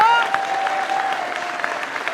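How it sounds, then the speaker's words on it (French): Audience applauding after a newly elected mayor's speech in a council setting, moderately loud, even clapping with a brief tonal sound at the start. "Nous pouvons les applaudir chaleureusement."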